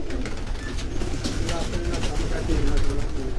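Pigeons on a rooftop make soft, repeated cooing and fluttering close by over a brief stretch, mixed with people talking.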